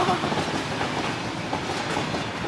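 A train rumbles past steadily with a continuous rolling clatter of wheels on the rails.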